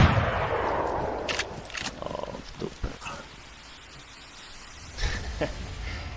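Gunfire in the DayZ video game comes as several muffled shots and bursts over a steady hissing background, fairly close.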